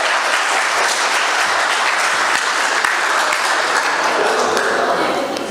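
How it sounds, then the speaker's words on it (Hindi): An audience at a mushaira poetry gathering in Sharjah applauds a poet, a loud, sustained wash of clapping from a large crowd that holds steady throughout and tapers slightly at the end. "जरा जागने के लिए और जोरदार तालियां बजा के दिखाइए जाजिब साहब को।"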